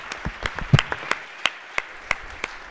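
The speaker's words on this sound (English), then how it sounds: "let's give this fine group a warm round of applause, please." Legislators on a state House floor applaud a visiting group with sparse, uneven hand claps that ring out in a large chamber, moderately loud with no voices over them.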